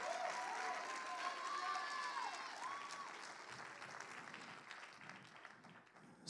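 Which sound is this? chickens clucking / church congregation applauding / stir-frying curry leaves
church congregation applauding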